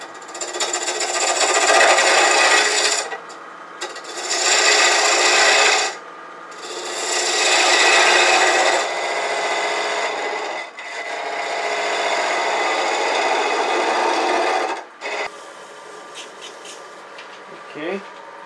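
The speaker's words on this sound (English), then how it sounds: "I'm going to use the 3/8 inch spindle gouge." Wood turning an apple-shaped box with a 3/8 inch spindle gouge, loud close scraping and rasping in several long passes separated by short pauses.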